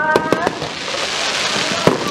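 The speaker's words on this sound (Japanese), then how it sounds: "あ、これです、これです、私の好きな花火" Festival fireworks at the Yakeuchi Donto matsuri burst in a quick cluster of sharp pops, then another lone bang after a pause, over a steady crackling wash and crowd noise.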